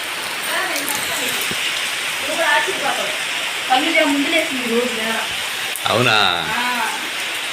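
Early morning rain falls in a steady, even hiss close by, while people hold a conversation over it.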